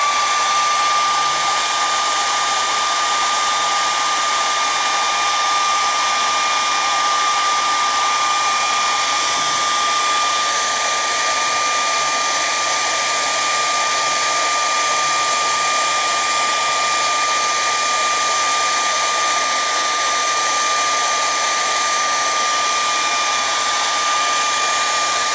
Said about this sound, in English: Let me hit this with the dryer real quick.